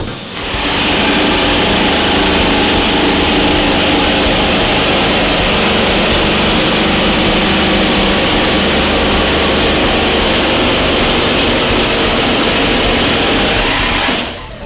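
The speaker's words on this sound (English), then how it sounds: "Now he's going to use the Sawzall." A Sawzall reciprocating saw cuts into a steel safe, a loud continuous high-pitched buzzing whine that runs unbroken and close for the whole stretch before cutting off at the end.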